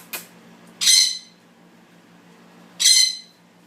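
A pet bird squawks twice in a home, with two harsh, raspy calls about two seconds apart, close and fairly loud over a faint steady hum.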